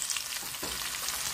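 Fish frying in a pan hisses and crackles steadily with hot oil, a close, continuous sizzle without talk, seasoned with onion and carrot.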